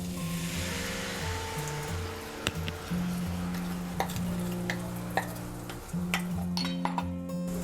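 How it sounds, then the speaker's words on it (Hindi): Yogurt paste goes into a pan over low heat for Kashmiri dum aloo and gets stirred continuously, a spoon scraping and clinking against metal in irregular taps over soft sizzling. "अब इसमें हम दही वाला पेस्ट डालेंगे।"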